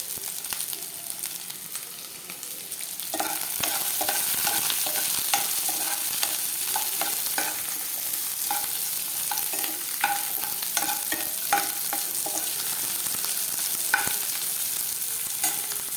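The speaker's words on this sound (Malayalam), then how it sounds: "ഇനി ഇതിലേക്ക് ക്യൂബ്സായി കട്ട് ചെയ്ത് വെച്ചിട്ടുള്ള സവാള ഇട്ട് കൊടുക്കുക" Cubed onions sizzling in a hot pan while a spatula stirs them, a constant frying hiss broken by repeated close scraping and tapping strokes.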